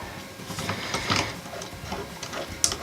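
A rivet nut installation tool being tightened on its mandrel during van framing work, giving a close, quiet series of small ratcheting clicks and metallic turns.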